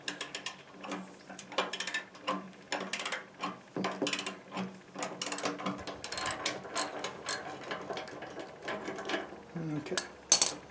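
A square-shank bolt on a Craftsman EZ3 lawnmower is worked loose with a ratchet, giving a long run of quick, close clicking strokes with brief pauses between them.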